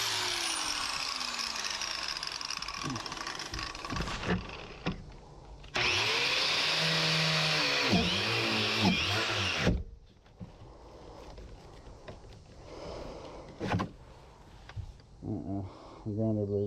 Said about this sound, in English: The grinder blade's getting fucked up.